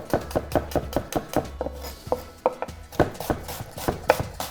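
A knife chops an onion into half-rings on a board, about a dozen sharp close taps with a brief pause midway, then the rhythm resumes.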